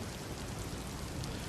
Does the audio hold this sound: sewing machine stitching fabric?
no